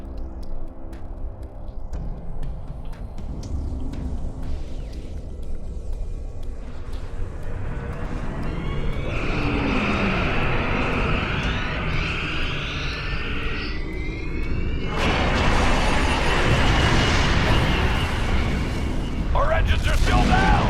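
In Star Trek Online, a starship surges to full impulse to ram a Nakul dreadnought: layered rising whooshes and sweeping tones build over rumbling booms, then erupt into a loud, roaring rush that keeps swelling.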